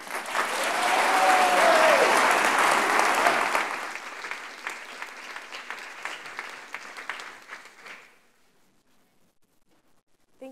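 An audience at Crystal Bridges breaks into loud, sustained applause to welcome two speakers, with clapping swelling over the first few seconds, holding steady, then thinning out and stopping near the end.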